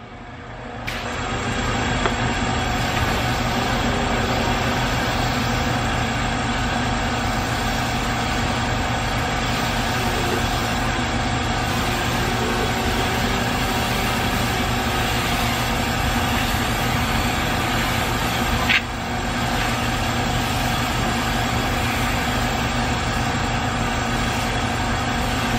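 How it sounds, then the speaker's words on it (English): Eco Rinse Machine pump running steadily and loud while pre-rinsing a 2015 Cadillac CTS 2.0T, a constant motor drone with a spray hiss on top, starting about two seconds in and continuing without a break. "that is the Eco Rinse Machine, and it is a bad, bad man."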